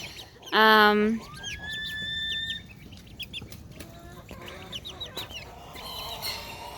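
Farm chickens, with ducks nearby, cluck and squawk outdoors in a wet, muddy yard, one loud close call at the start followed by scattered softer clucks and chirps.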